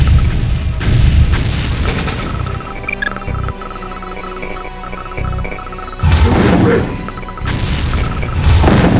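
A missile strike booms and rumbles in the Tiberian Sun strategy game, with deep blasts at the start and a second heavy burst of explosions later, separated by quieter mechanical game sounds.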